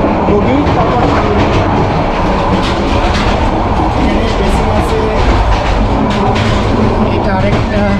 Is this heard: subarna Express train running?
yes